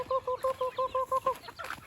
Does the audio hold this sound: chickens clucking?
yes